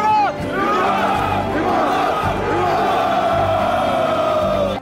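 A crowd of soldiers roars and cheers in a historical drama about the Russian Tsarina Elizabeth, a loud, sustained mass of shouting voices with a narrator speaking over it.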